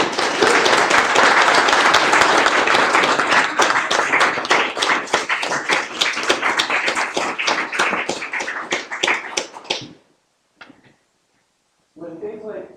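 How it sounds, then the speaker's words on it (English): Audience at a town council meeting applauds a basketball team, a loud burst of many hands clapping that tapers into scattered claps and stops near ten seconds, followed by a short stretch of silence and brief talk. "So we'll start with a round of applause."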